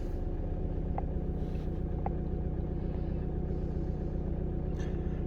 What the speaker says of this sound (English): We are now running at idle speed.